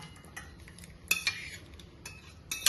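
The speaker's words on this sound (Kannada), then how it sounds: "ರೆಡಿಯಾಗಿರೋ ಗೊಜ್ಜನ್ನು ಪಾತ್ರೆಗೆ ಹಾಕ್ಕೊಳ್ತಾ ಇದ್ದೀನಿ." Ready taro stem gojju, a tangy Kannada curry, being ladled into a vessel, giving scattered metallic clinks and scrapes of a spoon against the pot, with a few sharper knocks and no talking.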